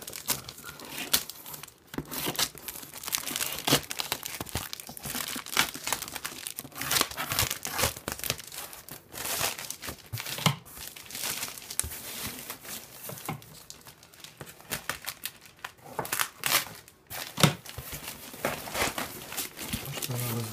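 Cardboard of a large, customs-cut parcel box from Poland crinkles, tears and rustles continuously as it is opened up close, with irregular crunches and scraping throughout.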